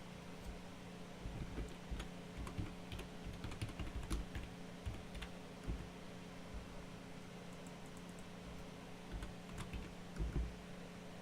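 Someone types a chat message on a computer keyboard, producing a close, steady clatter of keystrokes over a low hum of fan noise, with no talking.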